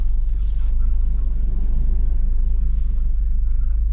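Steady low road rumble of traffic on a busy road, a continuous drone of passing cars heard from close by with no talk over it.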